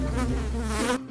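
Flies buzzing close by in hot, sticky weather, a loud continuous droning hum that fills the whole short moment before cutting off abruptly.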